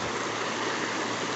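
A Ganga river flowing past a cremation ghat in Pithoragarh, Uttarakhand, a steady close rushing of water filling the brief moment with no talk.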